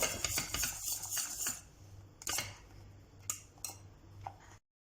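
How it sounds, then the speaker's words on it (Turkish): A spoon clinks and scrapes against a pot on the stove as melted butter is stirred into chocolate sauce, a few soft metallic taps and scrapes with quiet gaps between them and no voices. "Tereyağı erinceye kadar ocakta karıştırıp ocaktan alıyorum."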